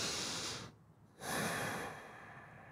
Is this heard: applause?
no